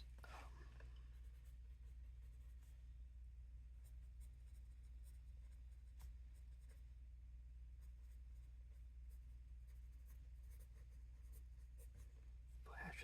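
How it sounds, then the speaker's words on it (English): A pen scratches across paper as football headlines are written by hand in a quiet ASMR setting, with soft, continuous strokes close to the mic over a steady low hum. "For this first week, my headlines I'm going to write"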